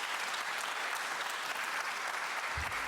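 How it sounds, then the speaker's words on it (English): A studio audience at a televised political debate claps steadily throughout, a dense, even wash of hands with no voices over it. "I would say maybe half of you are applauding, but certainly half of you are not to that"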